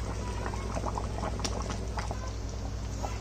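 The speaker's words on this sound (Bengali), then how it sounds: "এখন একটু গরম জল দিয়ে দেবো।" Hot water goes into a simmering pan of Bengali mutton kosha curry with potatoes, giving a steady bubbling, sputtering hiss over a low hum, moderately quiet and continuous, with no voices.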